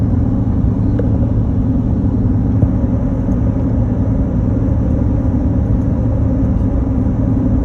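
A Ford F-150 EcoBoost pickup engine labors while towing a camper up a steep hill in northern Ontario, with a steady, loud, continuous low rumble and no talking.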